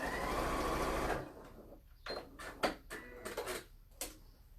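A sewing machine stitches along a fabric seam, a close steady whirring run that stops after about a second, followed by scattered ticks and clicks from handling the machine.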